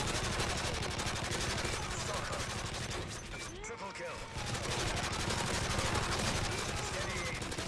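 Rapid P90 gunfire rattles through a dense, continuous barrage in a chaotic shooter video game, dipping briefly mid-way before the dense firing resumes.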